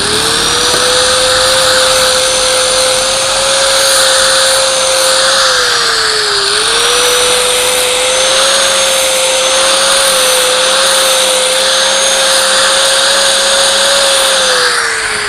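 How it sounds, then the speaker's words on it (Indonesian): A loud, continuous high-pitched whine of an angle grinder with a sanding disc cleaning the surface of a Shimizu electric motor, its pitch dipping briefly midway as it works against the surface. "ini akan kita bersihkan dulu ya dengan gerinda tadi."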